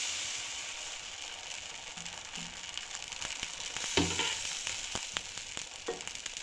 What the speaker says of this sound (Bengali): আবারও আমি কড়াইয়ের মধ্যে একটু ব্যাটার দিয়ে দিলাম